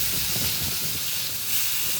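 Steaks sizzling hard on a grill after a fresh spritz of oil, a loud, steady, close hiss that fills the whole moment without pause or speech.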